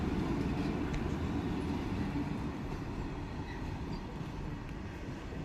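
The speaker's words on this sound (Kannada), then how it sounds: "ಈ ಕಡೆ ವ್ಯಾಕ್ 7 ಜೊತೆ ಟ್ವಿನ್ ಲೋಕಸ್ಸು ಗೂಡ್ಸ್ ಬರ್ತಿದೆ" A goods train hauled by twin WAG-7 electric locomotives rumbles past at close range, a continuous heavy roar of wheels and wagons with no pauses.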